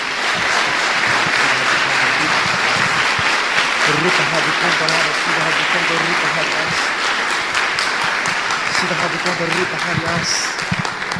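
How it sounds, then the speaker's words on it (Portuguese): A church congregation claps in praise during a worship service, a dense, loud, sustained round of applause filling the whole stretch, with some voices and a few tonal sounds mixed underneath. "Dê uma salva de palmas ao Senhor."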